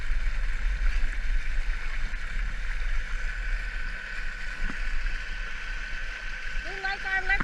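A Torqeedo 1003s electric outboard drives a Sea Eagle Paddleski inflatable kayak on Spring Lake, giving a steady low hum under wind and rushing water, with a voice speaking near the end.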